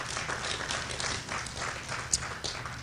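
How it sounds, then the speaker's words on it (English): Audience at the Devon County Show applauds guitarist Martin Barre of Jethro Tull, a dense steady wash of many hands clapping outdoors, fairly loud and continuous with no talk. "Round of applause, please."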